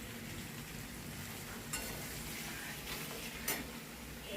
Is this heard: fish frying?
yes